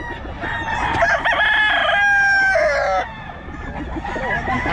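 A Pumpkin sweater gamefowl rooster crows loudly and close by in one long drawn-out call, with clucking and other fowl around it.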